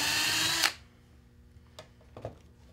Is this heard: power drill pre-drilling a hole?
yes